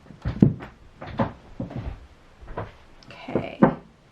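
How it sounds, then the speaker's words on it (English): An indoor door is shut with a few soft knocks and thuds, then one firmer closing bump near the end, close by and fairly quiet. "Hold on, Aries, I need to close my door."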